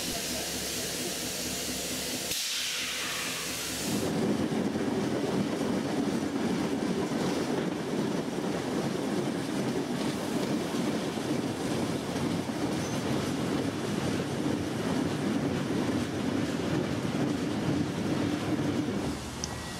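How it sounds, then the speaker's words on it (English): Steam locomotive 3642 backs slowly onto its carriages at Newcastle station in New South Wales, a steady rumble of rolling stock with faint wheel clatter continuing throughout, after a brief burst of louder noise near the start. "3642 is now backing onto its train, ready for the return trip to Sydney."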